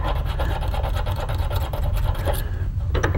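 A knife file rasps back and forth on a steel leaf spring for a side-by-side shotgun, giving quick, repeated scraping strokes, close and steady, with a brief pause near the end.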